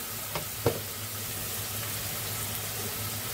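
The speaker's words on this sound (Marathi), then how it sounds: "थोडं असं परतून घेऊ" Fish masala sautés in a clay pot, a steady soft sizzle with a couple of brief stirring knocks near the start, close and even throughout, with no voices.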